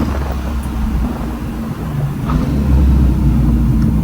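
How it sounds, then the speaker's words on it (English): A 1983 Ford Mustang with a 302 crate engine and Vortech supercharger accelerates down the road, its loud, steady low engine rumble building in intensity from inside the car, with no talking. "We'll take it down the road here, wind it out through the gears a little bit"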